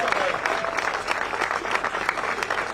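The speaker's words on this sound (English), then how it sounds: "Give the young kids a round of applause." Audience applause for young kids at a Rhode Island celebration of the Boston Celtics, with dense, steady clapping filling the room for a few seconds and faint crowd noise mixed in.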